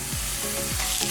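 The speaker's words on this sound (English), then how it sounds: "Okay, now we're gonna put the sausage in." Organic breakfast sausage frying in a pan for fried rice, giving a continuous close sizzle with a few faint tonal sweeps running over it, and no voices.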